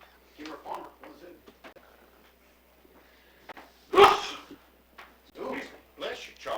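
A single sharp sneeze bursts out near the middle of casual conversation at a live-streamed ballgame, brief and louder than the surrounding voices.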